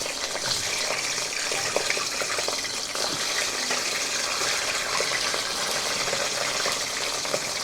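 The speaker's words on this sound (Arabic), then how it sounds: "كده يا بنات نبدا نحمر" Stuffed mumbar, stuffed intestines, frying in hot oil, giving a steady, continuous bubbling hiss close up that holds at an even level throughout, with no talking.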